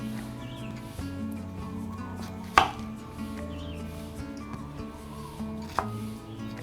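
Knife chopping a very ripe pineapple into cubes on a board, with a few sharp, isolated cuts standing out over steady background hum and no talk.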